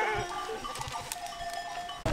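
Goats and sheep on a mountain trail along the Tour du Mont-Blanc, with steady bleating and tonal calls from the flock, close and continuous, alongside faint bell-like clinks.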